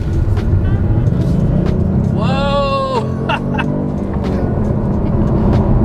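A Kia Stinger GT2 AWD accelerates at open throttle, a loud, steady low engine rumble filling the whole stretch, while a person exclaims briefly partway through over the drone.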